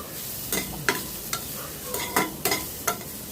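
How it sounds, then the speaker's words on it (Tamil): Grated coconut being sautéed in a pan, with a soft continuous sizzle and sharp regular scrapes of a spatula against the pan about every half second, heard up close without speech. "அதனால் நல்லா வதக்கி எடுத்துக்கோங்க"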